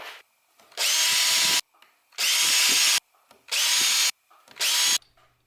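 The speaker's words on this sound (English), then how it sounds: "I'm going to drill them just real quick for a little pilot." Four short bursts of a power drill whirring through material to drill pilot holes, each lasting under a second with brief quiet gaps between them, close and loud.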